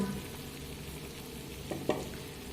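Potatoes, already fried, are stirred into minced meat frying in a pan for a Bengali keema aloo dum. A steady close sizzle runs throughout, with two sharp scrapes of the spoon near the end.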